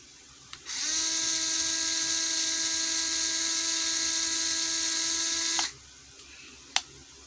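A ZPER ZP016-3 cordless screwdriver whirs steadily at its top speed setting for about five seconds, a loud sustained whine that starts and stops abruptly, with quiet room noise around it.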